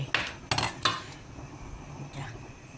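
A spoon scrapes and clanks against a large cooking pot of mushroom curry with young tamarind leaves, three sharp metallic knocks early on, then quieter stirring and a softer clink near the end.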